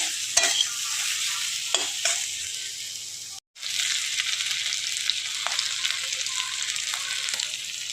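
Spiced shrimp masala is stir-fried in a pan, making a continuous close sizzle with occasional spatula scrapes and a brief break partway through before the frying resumes.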